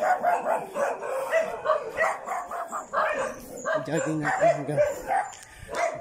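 Several dogs bark in a neighborhood during a jog, their short calls mixed in and partly buried under steady talking throughout.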